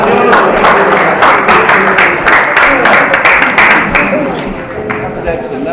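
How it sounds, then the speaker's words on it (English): An indoor audience at a report launch with speeches breaks into loud, dense applause that stays strong and then gradually thins and fades toward the end. "Give yourself a round of applause."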